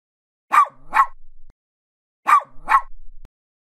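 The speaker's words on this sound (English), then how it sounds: "Please, don't bark." A dog gives two pairs of sharp, close barks, each pair followed by silence, loud and clear with nothing else heard.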